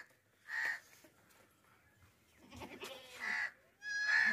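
Gabban goat, a large dairy breed with white eyes, bleats in several loud, drawn-out calls with short quiet gaps between them, close to the microphone.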